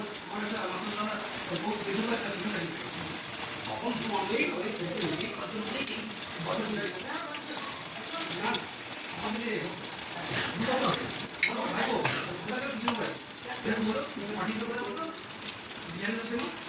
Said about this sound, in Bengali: তেল গরম হয়ে গেছে জিনিসটা ভেজে নিই